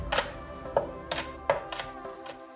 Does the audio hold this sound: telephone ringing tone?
no